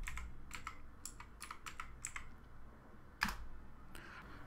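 Keys on a computer keyboard clatter in a quick, irregular run of soft clicks, close and quiet, with a short pause before one sharper tap and a few final keystrokes.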